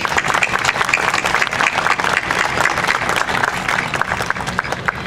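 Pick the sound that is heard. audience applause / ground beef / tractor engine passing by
audience applause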